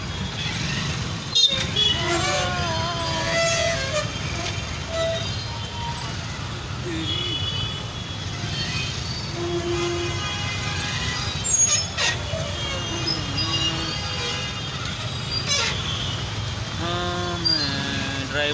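A traffic jam of buses and trucks at Meera Bagh, Delhi, with repeated horn toots and the rumble of idling engines, plus brief air-brake hisses and occasional voices over the steady street noise.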